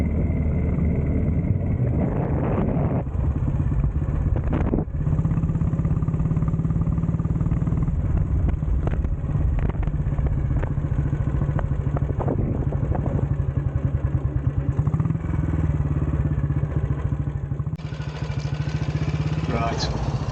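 A BSA C11 Deluxe motorcycle on a shakedown run, its engine droning steadily and loudly up close with wind buffeting throughout.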